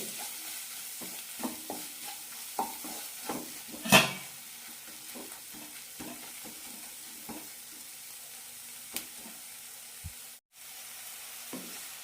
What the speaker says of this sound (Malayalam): നന്നായി വഴറ്റാം മസാല നന്നായി റോസ്റ്റായി കിട്ടണം